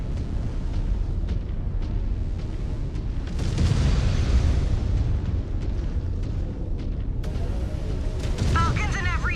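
Explosions boom in the MechWarrior 5: Clans mech combat game: a rolling barrage of heavy blasts swells in the middle over a constant mechanical rumble, with game chatter and a voice speaking across the scene.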